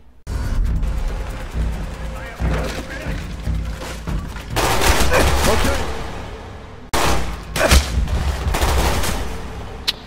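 Dense, loud video-game gunfire from Call of Duty: Black Ops, rapid bursts and booming shots rolling almost continuously for ten seconds, with sharper blasts near the end.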